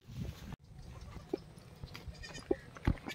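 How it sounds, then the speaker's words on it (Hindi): A goat that has just given birth to two kids bleats in short, faint calls at a farm, with several brief cries spread across quiet outdoor background noise and no clear speech. "ये वाला जो बकरी को बच्चा का जन्म दिया है, 2 बच्चे हैं"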